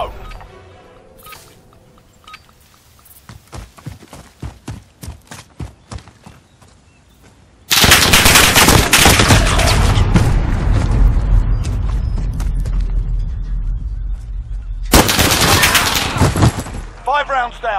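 Gunfire from a Modern Warfare gunfight tournament round: scattered sharp shots early, then dense, loud sustained bursts of automatic fire with booming impacts, dropping back before a second heavy volley near the end, with voices over the action.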